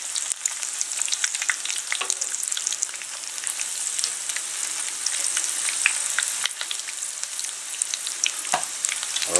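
Crumbed lamb cutlets fry in a pan after being flipped, a loud, steady crackling sizzle with scattered sharp pops and a brief scrape, close and continuous without speech.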